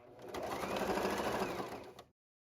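A sewing machine over-stitches a fabric seam on table linen, a fast steady whirring run of stitches for about two seconds that then stops abruptly, close and clear with no talking.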